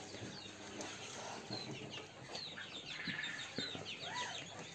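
Farm chickens cluck and chirp in a mixed poultry area, several birds calling intermittently at moderate distance against a busy background with occasional wing flaps.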